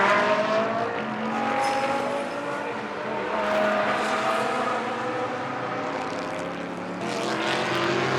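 A GT race car at Blancpain Sprint Series free practice in Moscow, driven by Laurens Vanthoor out of the final corner, roars steadily and loudly past and across the line, with engine drone swelling and fading.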